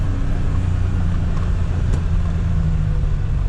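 A 2024 Polaris Ranger XD1500 work UTV driving in sport mode, with a steady, loud engine drone and road rumble heard from the cab and no talk.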